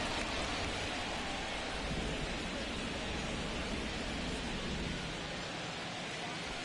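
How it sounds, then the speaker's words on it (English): Steady broadband rain falling on a baseball field in MLB The Show, a dense continuous hiss with no distinct drops, filling the whole stretch at even loudness. "the field's not going to be able to hold up if the rain gets any worse than this"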